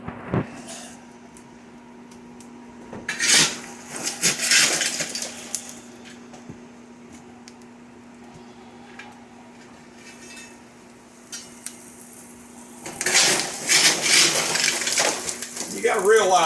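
Coal being layered into a Hot Blast 1500 stove, heard as intermittent metallic scrapes, clanks and gritty rattles in two main bursts separated by quieter stretches, with a steady low hum underneath.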